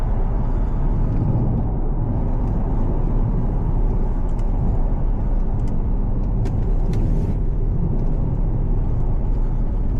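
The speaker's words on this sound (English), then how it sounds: "A nice little bit of a grumble when you go through the rev range, but not super loud." A steady, low 3.0 diesel engine rumble from inside a moving Jaguar XF X250, grumbling through the rev range, with road noise throughout and no talking.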